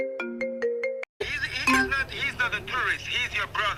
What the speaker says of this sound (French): mon téléphone, il a sonné